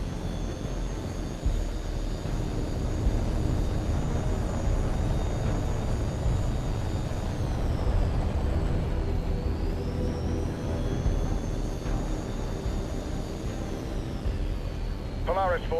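Jet aircraft engine from the Tom Clancy's H.A.W.X. 2 flight game, a loud, steady roar with a whining tone that slowly bends in pitch, sustained throughout.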